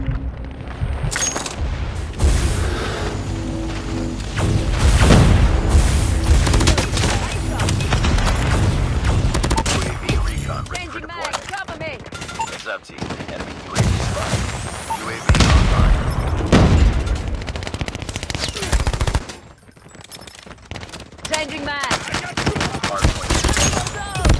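Booming airstrike explosions and rapid automatic gunfire erupt throughout a multiplayer shooter match on a hardpoint mode, loud and dense with repeated blasts, layered under game announcer voice lines and player talk.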